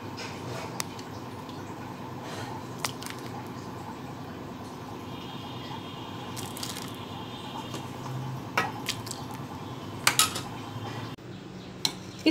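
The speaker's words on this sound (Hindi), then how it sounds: "अब हम इसे बाउल में निकाल लेंगे।" Cooked masoor lentil dal being spooned out of a pot into a serving bowl in a home kitchen, with light scraping, clinks of a metal spoon and a few sharper clatters near the end, close and fairly quiet.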